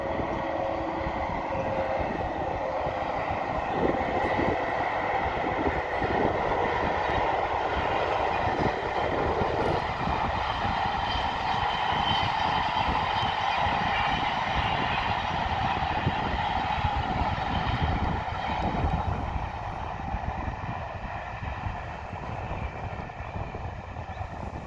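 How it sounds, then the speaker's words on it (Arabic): A train runs along a new railway line near Meknes, Morocco, as a steady, loud rolling rumble with a broad rushing roar that holds for the whole stretch and eases slightly near the end. "ها هي قطار دايز في السكه الجديده الخط."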